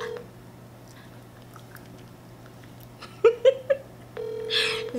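Phone call placed on speakerphone: a few short dialing or connection tones, then a sustained steady ringback tone, fairly close over a constant low hum.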